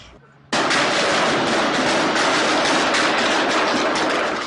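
Gunfire during a police standoff erupts suddenly after a quiet moment into a loud, dense, continuous barrage of shots, with no talking.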